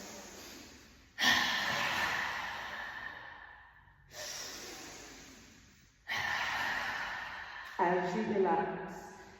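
Deep breathing during a chakra-alignment yoga session: slow, loud, close exhales in four long breaths, each starting abruptly and trailing off, separated by quiet inhales.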